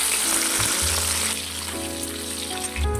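Whole garam masala spices frying in hot oil before capsicum goes in, a continuous bright sizzle with a slight watery crackle that holds steady throughout.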